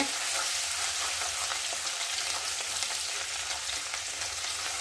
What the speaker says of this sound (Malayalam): നമുക്ക് ഇഞ്ചി വെളുത്തുള്ളി ഇട്ട് കൊടുക്കാം